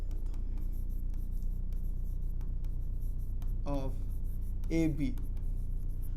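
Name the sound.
writing on board while solving maths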